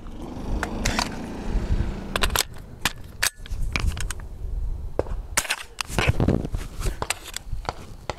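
A .22LR AR15 rifle fires a run of sharp, separate shots at an uneven pace, some close together and some spaced apart, each one loud and near, with no talk over them.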